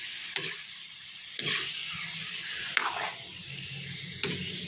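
Meat with a little fat, cooked for mekus mekus, sizzles quietly in a pan under a soft steady hiss, broken by four sharp scrapes and clanks of a spatula stirring it, with no talking.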